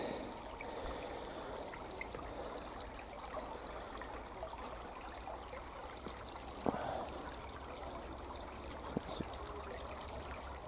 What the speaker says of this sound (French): Belle petite rivière.